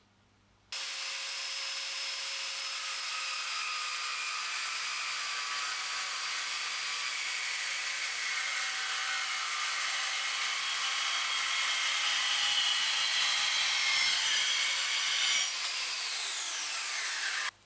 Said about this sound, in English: So we're going to see if this can actually cut 316 stainless.